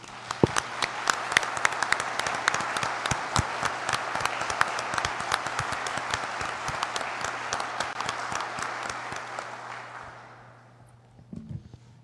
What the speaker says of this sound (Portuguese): Aplaudamos a palavra de Deus.